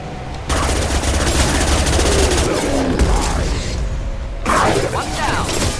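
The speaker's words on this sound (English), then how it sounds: "Stop firing at me, idiot!" Dense, sustained gunfire from the video game Mass Effect 2, a loud unbroken stream of rapid shots and impacts lasting several seconds, with a brief louder burst near the end and some voice mixed in.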